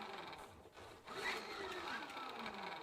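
A bike dynamo on a winter beater bike whirs as the wheel spins forward, a quiet steady mechanical buzz with faint rattling, dipping briefly before settling into an even hum.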